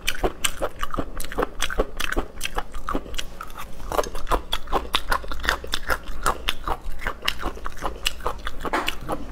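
Close, loud crunching and chewing of a spicy, numbing triangular-bone style snack, with rapid irregular crisp bites throughout and no talking.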